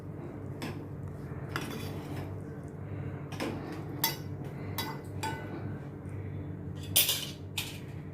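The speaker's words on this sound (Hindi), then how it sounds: "इन सभी को अच्छी तरह से मैं मिक्स करती हूँ।" A spoon clinks against a bowl while chopped tomatoes are stirred into chana chaat, with repeated sharp metallic taps at an irregular pace over a soft background hum.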